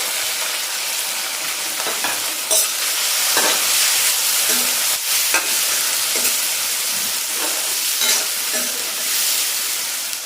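Small onions, left whole, fry in a silver pan, giving a steady, bright sizzle with occasional scraping stir sounds and no talk.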